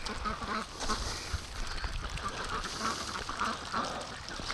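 Ducks quack in a continuous, overlapping chorus as a free-range flock forages outdoors, with steady mid-level noise throughout and no clear individual calls standing out.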